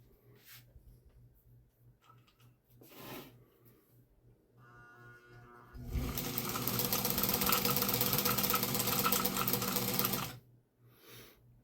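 A 1965 White Model 765 sewing machine, once seized with rust and since freed, first gives a few faint clicks and handling sounds, then runs for about four seconds with a loud, close, steady mechanical whir before stopping.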